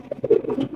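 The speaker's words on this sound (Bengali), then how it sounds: "এখানে রয়েছে আরো একটা রেসার কবুতর," A racer pigeon coos nearby, a short soft throaty burble with two or three rolling notes.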